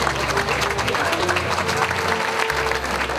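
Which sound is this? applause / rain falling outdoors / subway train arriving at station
applause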